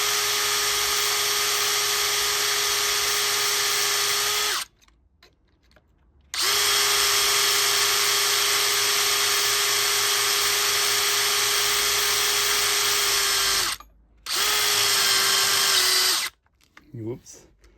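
An electric drill bores through a metal gate for a new lock, running loud and steady in long bursts with brief pauses between them, the motor pitch dipping slightly as it bites.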